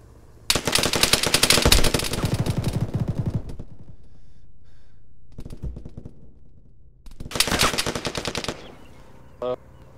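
Gunfire in Arma 3, with two long loud bursts of machine-gun fire separated by a short volley, and a lingering echoing tail after each burst.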